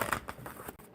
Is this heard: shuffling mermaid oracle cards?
yes